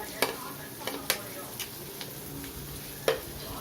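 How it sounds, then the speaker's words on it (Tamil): Chopped onion, green chilli, curry leaves, pepper and garlic sauté in a pan on medium heat, with a gentle steady sizzle and a few sharp clicks of a spoon stirring against the pan. "இது எல்லாத்தையும் வந்து ஒரு நிமிஷம் வந்து வதக்கலாம் மீடியமாக வச்சு வதக்கங்க"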